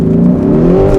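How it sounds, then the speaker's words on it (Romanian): A stock Lamborghini Urus with its factory Akrapovic exhaust revs steadily and loud, a sustained throaty engine note that holds and slightly rises over about a second, with no talking. "Ea are evacuare de Akrapovic de fabrică, uite."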